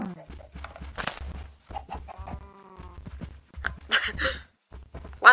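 Chicken clucks in Minecraft come in short bursts over a farm scene, mixed with other animal noises and occasional game effects at moderate loudness.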